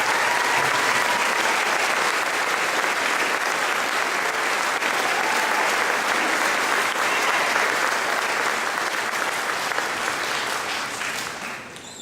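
An audience at an 8th grade graduation ceremony claps steadily, a loud sustained wash of applause that holds for most of the stretch before tapering off at the end.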